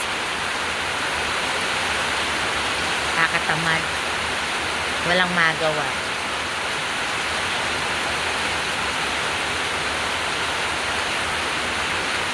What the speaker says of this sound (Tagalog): Lakas ng ulan no guys.